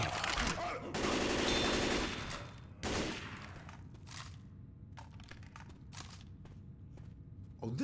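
Rifle gunfire in Left 4 Dead 2 comes as dense, loud bursts of rapid shots early on, then sparser sharp cracks and footsteps, with voices briefly calling out.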